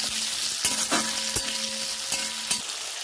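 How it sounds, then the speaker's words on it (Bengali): Capsicum and onion frying in mustard oil for chicken kadai sizzle steadily in a pan, with a few sharp clicks and scrapes from stirring, and no voices. "ক্যাপসিকামটা আর পেঁয়াজটা একটু হালকা করে ভেজে নেবো"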